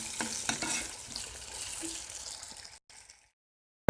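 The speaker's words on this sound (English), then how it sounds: "cooking the chorizo. Render it down" Chorizo frying and rendering down in a pan for tamales, a steady close sizzle with occasional stirring scrapes that cuts off into near silence at the end.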